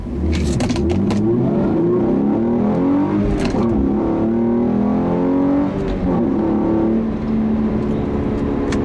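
A 2015 Hyundai Genesis Coupe 3.8 V6 engine with a manual gearbox revs loudly and steadily as it accelerates, its pitch climbing and dropping through gear changes, close and continuous.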